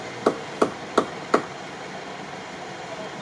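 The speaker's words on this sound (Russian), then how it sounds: "Починил машину голыми руками, в перчатках и молотком" Four sharp hammer blows land at an even pace on part of a stuck UAZ off-road vehicle during a field repair, close and distinct over steady outdoor background noise, with no talk.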